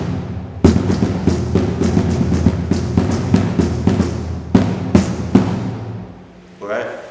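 A marching bass drum line plays a steady groove of close, punchy beats with stronger accents and a short break near the end. Someone briefly speaks at the close.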